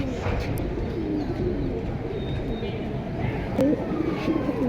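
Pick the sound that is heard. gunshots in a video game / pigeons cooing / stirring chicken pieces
pigeons cooing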